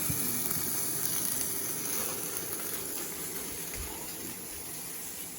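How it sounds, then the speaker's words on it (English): Steady, hissing sizzle of steak frying in a hot pan, continuous and fairly close. "Listen to it sizzle. Good indication you've got a nice hot pan."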